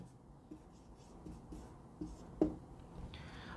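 A pen scratches across paper in short strokes, with several soft scrapes spaced through the quiet and one sharper tap near the end, close and faint, with no talk over it.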